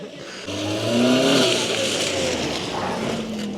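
A red Ferrari sports car in Kutaisi revs nearby, its engine note climbing loudly in pitch and then settling into a sustained roar.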